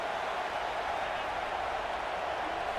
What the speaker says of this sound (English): as we are having to deal with some loud crowd